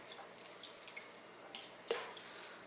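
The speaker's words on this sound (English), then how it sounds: "rinse it in some tank water" A java fern is rinsed in aquarium tank water, giving faint splashes and trickling drips with a couple of sharper splashes, quiet and close, with no one talking.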